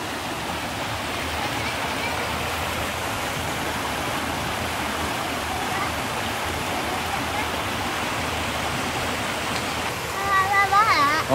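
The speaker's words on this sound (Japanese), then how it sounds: "川の音がする" Steady broadband rushing of a flowing river fills the whole clip, constant and fairly close, with a few faint chirps near the end, heard on a 7 a.m. walk at an RV park.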